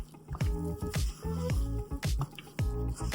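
Cement paper mache paste being stirred and mixed by hand gives wet squelching, dripping strokes in an irregular rhythm, close and fairly quiet.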